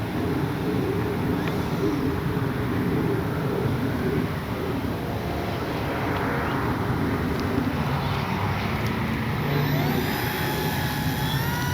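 An RC model airplane, an FMS model, flying overhead at low speed with flaps deployed, a steady continuous motor drone that holds level with light wind noise and no voices.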